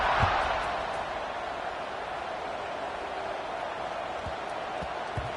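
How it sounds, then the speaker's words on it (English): Stadium crowd noise in an American football video game after a score, a constant murmuring roar with a few faint thumps underneath, no voices rising above it. "this crowd is buzzing after that last score"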